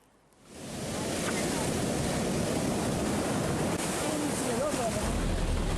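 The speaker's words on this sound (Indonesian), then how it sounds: "Gelombang pasang menghantam objek wisata Pantai Gondariah di Pariaman, Sumatera Barat sejak 4 hari yang lalu." Tidal waves crash onto Gondariah beach in Pariaman, West Sumatra, rising after a quiet start into a loud, sustained roar of surf and wind.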